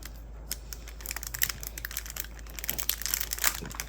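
Thin plastic wrapping around a mosquito-repellent bracelet crinkles and rustles up close as it is opened, a busy stream of small crackles that grows denser toward the end, with no talking.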